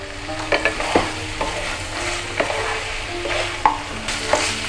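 Cooked vegetables sizzle softly in a pan while a spoon stirs in chopped coriander, with light scraping knocks repeating every second or so over a steady fry.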